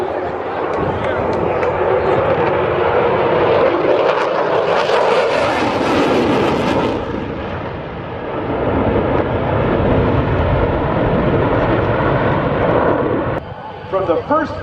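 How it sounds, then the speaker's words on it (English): A loud, roaring F-22 Raptor fighter jet passes close by at an air show, its engine noise swelling and sweeping in pitch before settling into a sustained rumble, with a crowd talking underneath. "Your United States Air Force's F-22 Raptor."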